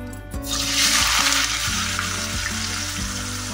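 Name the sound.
potatoes frying in oil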